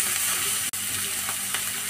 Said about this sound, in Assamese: এতিয়া এইখিনি অলপ ভালকৈ ভাজি লওঁ।